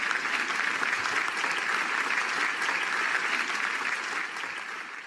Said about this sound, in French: nous allons les acclamer une fois de plus